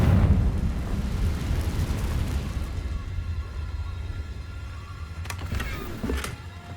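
The Confringo blasting spell in Hogwarts Legacy lets out a loud, rumbling blast that fades over several seconds, followed by a couple of sharp crackling bursts near the end.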